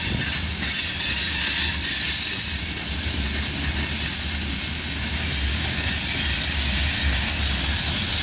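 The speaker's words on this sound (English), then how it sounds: "An as of yet unidentified grain train." A CSX grain train rolls past on the rails by Main Street in Hamlet, heading into the yard. It makes a loud, steady, close rumble of railcars with wheel squeal and hiss running throughout. No one speaks.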